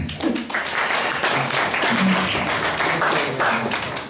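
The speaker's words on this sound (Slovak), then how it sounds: "Prosím, potlesk." Audience applause at a Matica Slovenská local branch event in Bratislava, a steady wash of clapping from a seated crowd that fills the whole stretch at constant loudness, with a few faint voices mixed in.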